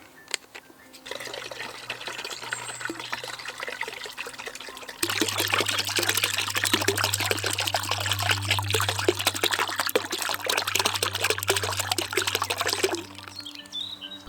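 Water pours into a bucket already holding about 2 litres: a thin trickle first, then a steady, louder splashing stream lasting around eight seconds before it stops, over a low background hum.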